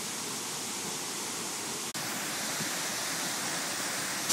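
Aberdulais waterfall in Britain roaring with steady, loud broadband rushing water, continuous throughout with one brief dip midway.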